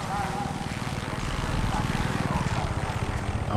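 A helicopter in Far Cry 6 drones overhead with a steady low rotor throb that pulses more distinctly toward the end, with a voice talking faintly over it.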